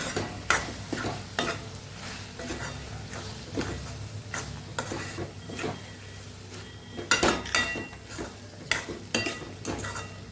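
Onion and tomato curry being stirred in a pan, a spoon scraping and knocking against the metal in an irregular rhythm of sharp clinks over a soft sizzle, close and without talk.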